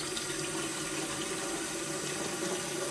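Tap water running steadily into a container holding mango drink powder, a continuous close splashing rush that stays even throughout with no talking over it.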